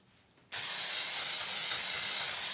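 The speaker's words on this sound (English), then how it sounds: "Top them off with a little cooking spray." Steady, close hiss of non-stick cooking spray from an aerosol can, misted over tomatillos on a tray, one long unbroken burst starting abruptly after a brief quiet moment, with no talking.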